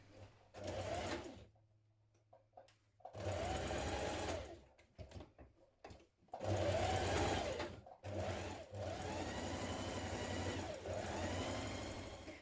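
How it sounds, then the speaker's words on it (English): A sewing machine stitches the side seam of a children's dress in several close, loud bursts of rapid whirring, separated by short pauses and quieter handling, with no talking. "you can sew around your pocket and then edge finish it"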